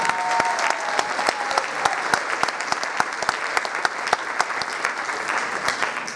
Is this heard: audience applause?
yes